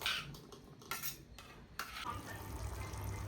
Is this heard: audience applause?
no